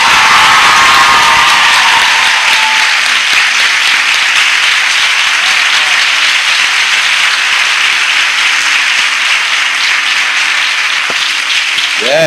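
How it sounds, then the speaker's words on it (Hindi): Church congregation applauding loudly and continuously, a dense wash of many hands that holds steady and slowly thins toward the end, with a brief voice near the close. "ऐसी ताली बजाओ जो इस कलीसिया में आज तक नहीं बजी होगी।"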